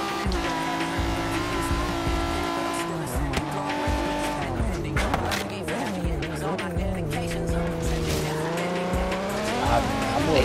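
A car in Forza Horizon 3 revs hard under acceleration, its engine note climbing and dropping through gear changes while tires squeal and skid almost continuously over the loud game soundtrack.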